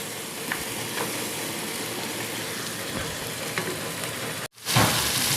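Mutton chops sizzle steadily in spiced masala with ghee, Punjabi style, a dense continuous frying hiss with a brief sharp break and stir near the end. No voices.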